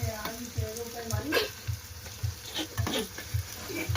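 Garlic crackles as it fries in hot oil for a tempering, a steady sizzle carrying regular soft knocks of stirring and a faint voice in the background.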